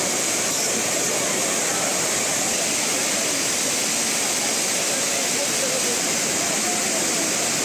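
Courtallam main waterfall roaring with steady, loud broadband rushing water throughout, with no break or variation.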